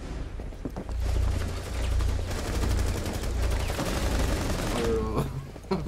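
Rapid bursts of gunfire in the video game Rainbow Six Siege, dense automatic volleys sustained under players chatting, with a few sharper shots near the end.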